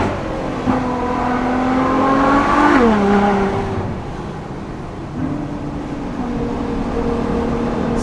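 A Ferrari FF's naturally aspirated V12 on the Susten Pass mountain road, loud and steady, rising in pitch under acceleration, dropping on a shift, then pulling again with a continuous engine drone.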